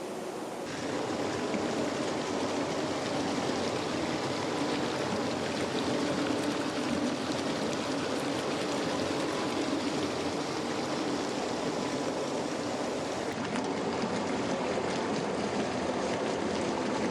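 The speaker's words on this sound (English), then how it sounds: "Water flows with sections disappearing under the rocks only to reappear downstream." Water in a seasonal river with interlocking rocks on its bed flows over the stones and slips beneath them, giving a steady, broad rushing wash without pause and with no voices.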